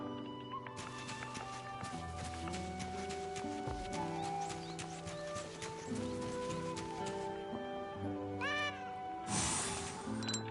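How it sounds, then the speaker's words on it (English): A cat in the video game Fate/Samurai Remnant meows repeatedly while being chased, over game music and footsteps, with a sharp squealing caterwaul near the end. "Then we chase the cat a couple of times."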